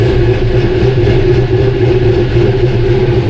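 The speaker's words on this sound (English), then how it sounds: "It sounds like we've got a miss. Like one cylinder's not quite hitting right." Car engine idling with a misfiring cylinder, a loud, close, steady low rumble with a slightly uneven pulsing beat and no voices.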